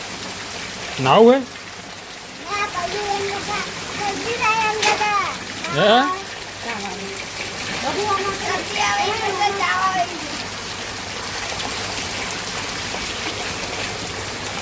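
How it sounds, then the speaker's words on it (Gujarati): Heavy rain pours down in a steady, dense wash close by, while people talk over it for the first part before the downpour continues on its own. "વરસાદ પડે છે જોરદાર."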